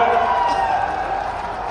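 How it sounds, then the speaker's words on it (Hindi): Crowd at a welcome ceremony for the Chief Minister in Khargone, a dense wash of steady applause and cheering that holds evenly from start to finish, with no single claps standing out. "तालियां जोरदार तरीके से बजा दीजिए।"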